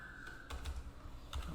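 Keys on a computer keyboard are pressed in a short burst of a few soft clicks, close and quiet over a low background hum.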